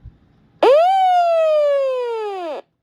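A weather radio alert siren gives a single loud wail that rises sharply, holds a steady piercing tone for about two seconds, then drops off abruptly.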